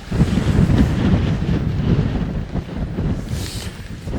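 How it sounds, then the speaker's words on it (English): Strong winter wind at a wild camp roars and buffets the microphone continuously, with heavy low rumbling gusts and no voices. "wind is starting to pick up quite a bit. Really windy."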